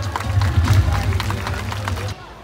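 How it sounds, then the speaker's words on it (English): Audience clapping at an outdoor bird of prey show with vultures, eagles and owls, a dense burst of applause lasting about two seconds over low crowd murmur before cutting off abruptly. "Let's give a big round of applause, everyone."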